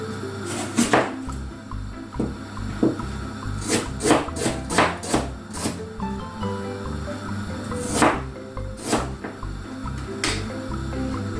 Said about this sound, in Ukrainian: І зараз так само я буду різати картоплю.